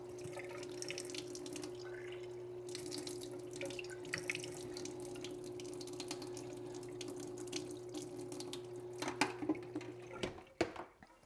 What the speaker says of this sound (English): So I'm going to turn my pump on.